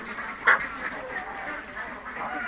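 Pekin ducks, birds reaching four kilograms at forty days, give one loud nearby quack about halfway through, over a low, steady background of farmyard murmur and quieter calls.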